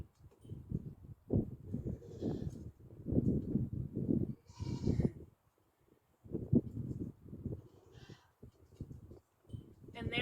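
Nigerian Dwarf goats bleat repeatedly on a milking stand during kidding-season prep, a series of wavering calls separated by short pauses, heard close and fairly quiet.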